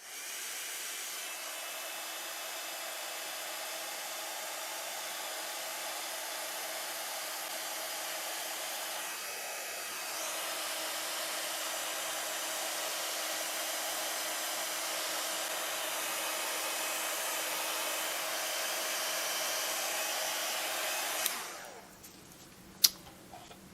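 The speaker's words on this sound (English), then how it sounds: "I want to see if I put heat gun on it," A heat gun blows a steady, loud roar of air onto resin dragon keychains. A brief shift in pitch comes partway through, and the roar cuts off sharply near the end, followed by a click.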